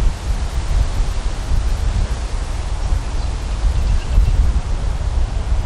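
Strong wind buffeting across an open golf course, a loud continuous roaring rush with heavy low rumble and no clear gaps, no voices present.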